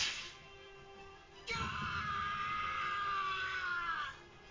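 A long, loud scream from a character in the video game Bleach: Rebirth of Souls, a sustained high wail of about two and a half seconds held over quieter game background sound.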